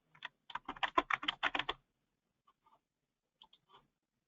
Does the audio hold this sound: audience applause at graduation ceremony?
no